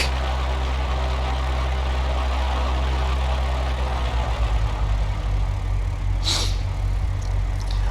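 A simulated aircraft engine in Flight Simulator X, throttled back, gives a steady, loud, low droning hum with a brief higher whoosh near the end.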